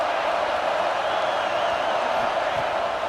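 Stadium crowd at a college football video game, LSU visiting Texas A&M, roaring in a steady, dense wall of cheering that holds at an even level throughout.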